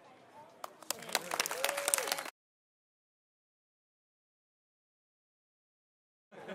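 An audience at a DIY tech show-and-tell at the DESIGN West conference claps and cheers in a short burst that cuts off abruptly into silence.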